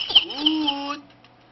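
A single chick on a farm gives one high, drawn-out peep lasting about a second. The call is clear and close and fades into quiet.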